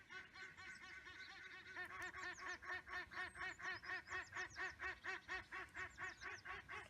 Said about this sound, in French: ils gueulent les canards